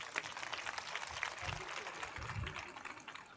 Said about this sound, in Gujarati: ખાલી બૂથ પ્રમુખો તાળી પાડો જો ખબર પડી જાય.